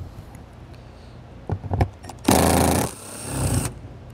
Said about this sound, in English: behind there, we're gonna have a bolt that we need to remove with a 10mm socket